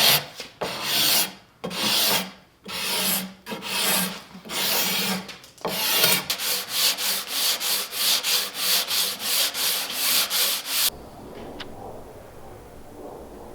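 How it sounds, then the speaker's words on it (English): Half-rounded card scraper working a wooden bookshelf part to round it, close rasping strokes, first several long irregular passes, then a quick run of short rhythmic scrapes before stopping into near quiet. "I'm going to use a half-rounded card scraper to make it even a little more round"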